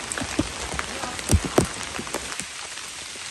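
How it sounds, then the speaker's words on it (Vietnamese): Heavy rain falls steadily on a difficult road, a close, continuous patter with sharp, irregular drips and splashes on surfaces. "Trời thì đang rất là mưa."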